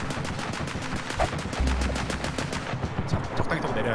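Rapid automatic gunfire in the video game Escape from Tarkov, a dense rattling burst of repeated shots running through the whole stretch, loud and close, with a heavier low thump partway through.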